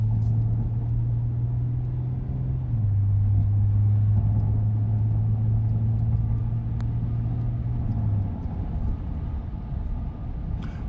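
A 2025 Ram 1500 Bighorn with the 3.6-liter engine accelerates onto a highway, heard from inside as a steady low drone and road rumble, with the engine tone shifting slightly partway through, and no talking.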